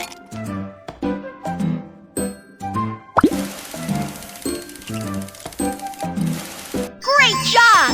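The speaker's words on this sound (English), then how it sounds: "Pour the ice cubes into the ice crusher." In a Babybus children's video game, ice cubes drop into an ice crusher as a quick series of bright cartoon plops and glassy clinks in an uneven rhythm, ending with a rising chime-like flourish.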